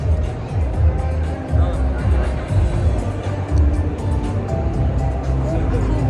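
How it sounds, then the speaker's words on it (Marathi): A dense crowd hubbub at the Creator United event in Mumbai, a steady murmur of many voices close around with low rumble underneath, continuous and fairly loud throughout. "प्रचंड गर्दी आहे"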